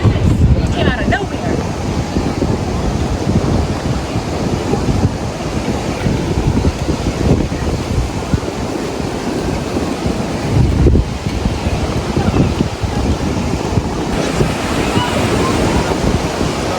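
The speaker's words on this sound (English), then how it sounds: "Really windy." Strong wind buffets the microphone at the beach by the Westgate Cocoa Beach Pier, a loud continuous roar mixed with crashing surf that keeps going for the whole stretch.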